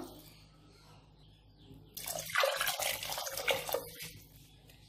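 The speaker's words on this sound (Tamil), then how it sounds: "இப்போ இதுக்கு வந்து 3/4 பவுல் ரைஸுக்கு வந்து நம்ம 1/2 பங்கு வந்து தண்ணி ஊற்றிக்கலாம்." Water poured into a pot of rice for chicken biryani, a steady splashing pour starting about two seconds in and running to the end, fairly loud and close with no talking.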